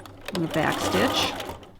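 Sewing machine sewing a back stitch, a short mechanical whirring run under a speaking voice.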